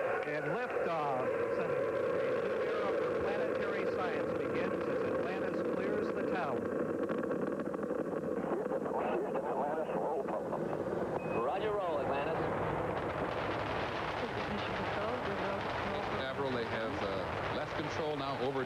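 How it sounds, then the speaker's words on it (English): Space Shuttle STS-30 main engines and boosters roaring at liftoff, a broad, continuous rumbling roar heard from a distance that swells and persists, with a broadcast voice talking over it. "we have main engine start. 2, 1, 0, and liftoff."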